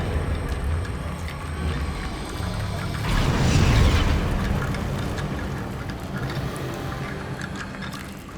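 A Bombarda blasting spell goes off in Hogwarts Legacy, a loud broadband burst swelling around the middle of a continuous game soundscape, then fading back into the ambient bed.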